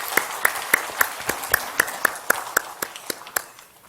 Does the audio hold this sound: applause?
yes